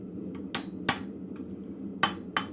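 Hot steel flat bit tongs are hammered straight on an anvil in a blacksmith shop, with six sharp metallic strikes in two uneven bursts, close and ringing.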